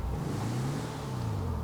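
A VW bus engine revs in GTA 5, a steady low droning hum with a rising and falling pitch sweep, loud and continuous with no talking.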